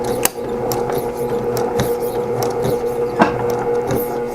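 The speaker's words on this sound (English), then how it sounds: "Let me get closer and back stitch a couple of times" Home sewing machine back stitching a couple of times at the end of a seam on a small patchwork tote bag, a close, steady whirring run with occasional sharp clicks.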